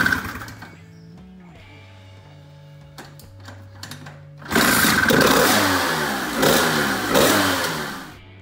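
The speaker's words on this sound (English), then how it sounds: "footage I have of this thing running. It is an insane engine." A Vespa PX 150 scooter fitted with a Malossi 221cc engine is kicked over and started, idling roughly before revving hard into a loud, raspy, sustained roar with surging throttle blips.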